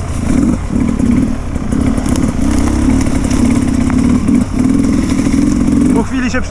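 A 2023 Sherco 300 SC Factory motorcycle engine runs steadily close by, a loud, even buzzing drone that holds throughout while someone talks over it.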